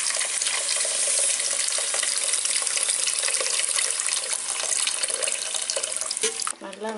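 Water poured into a clay pot for a stingray fish curry, a steady, close, continuous splashing and gushing rush that lasts throughout and breaks off briefly near the end.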